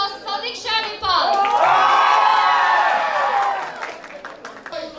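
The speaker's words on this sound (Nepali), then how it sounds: "let's give it a big round of अप्लज" An audience at a sports awards ceremony breaks into loud, sustained cheering and applause with whoops and shouts, swelling after a short spoken introduction and then fading.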